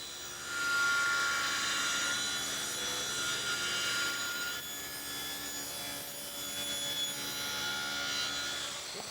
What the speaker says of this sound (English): set up my tapering jig to rip this face off